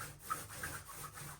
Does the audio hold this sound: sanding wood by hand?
yes